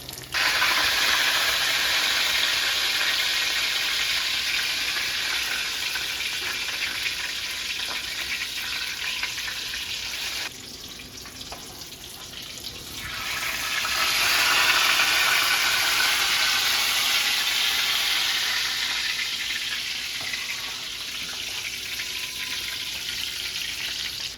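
Eggplant frying in a pan of hot oil until golden brown and crispy, a steady close sizzle and hiss running throughout, dipping briefly midway before swelling back to full strength.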